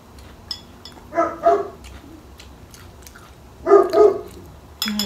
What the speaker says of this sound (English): those dogs are so annoying.